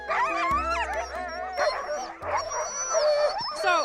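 Sled dogs in a snowy polar setting bark, yip and whine eagerly before the run, a loud overlapping chorus close by.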